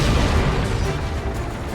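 Dense low rumbling of distant artillery and gunfire rolls on without pause, loud and muddy throughout, in wartime Korea during the Korean War.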